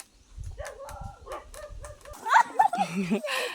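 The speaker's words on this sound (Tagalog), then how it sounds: "May aso." A dog yips and barks a few times, with whimpering sounds, mixed in with voices nearby.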